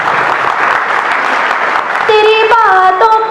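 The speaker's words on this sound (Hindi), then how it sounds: "आप थोड़ी बहुत तालियां बजा सकते हैं, मुझे बुरा नहीं मानूंगी।" Audience applause at a live Hindi poetry recitation, a steady wash of clapping that runs throughout, joined midway by sustained music tones over it.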